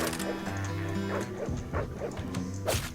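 A dog in the video game Deadbolt barks in a quick run of sharp yips and yelps, close and loud over a few seconds.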